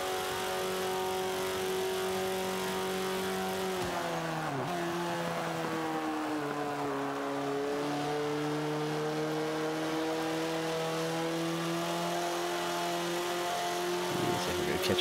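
KTM X-Bow race car in the Forza 5 racing game, fitted with a turbo, holds a steady high engine whine, drops sharply as the throttle is lifted for a missed turn, then builds up again through the revs.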